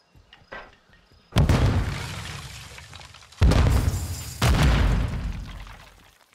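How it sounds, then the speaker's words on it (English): Loud explosions of a detonated charge in a Search & Destroy match of Call of Duty: Modern Warfare 2, three heavy blasts with shattering debris and long decaying rumble, preceded by faint game sounds. "set the charge on the target and detonate it"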